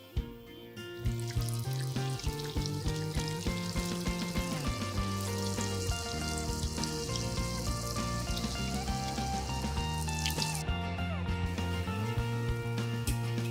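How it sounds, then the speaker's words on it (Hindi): Sticks deep-frying in hot oil give off a steady, dense sizzle with crackling that holds for the whole stretch, while music plays underneath. "और इसी तरह से हम अपने सारे स्टिक्स फ्राई कर लेंगे"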